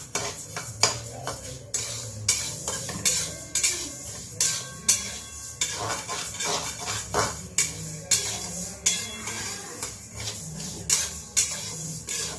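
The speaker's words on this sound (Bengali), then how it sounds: "একটু মুগ ডালটাকে হালকা করে ভেজে নিচ্ছি।" Moong dal lightly dry-fried in a pan, with rhythmic metallic scraping and clinking of a spoon against the pan repeating at a steady pace, close and clear.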